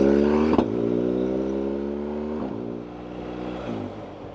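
A motorcycle cruises down a state highway, its engine drone steady and close with a few audible gear shifts that briefly drop and then rebuild the pitch, under loud wind noise.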